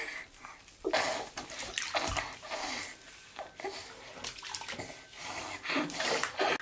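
Bath water running into a tub with lavender added, a steady splashing rush with small sloshes, near and fairly loud for the whole stretch.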